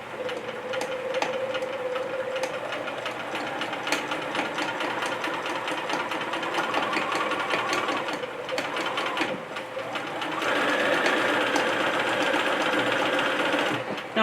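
A sewing machine stitches steadily through fabric while a dress is made from a Simplicity 1538 pattern, its rapid, even whir running without a break and growing a little louder toward the end.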